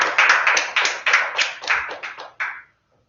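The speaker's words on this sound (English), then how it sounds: "So if you guys would just give him a quick round of applause." A small group claps in a quiet room during a talk on the Godot engine, giving a few seconds of sparse, separate claps that stop abruptly into silence.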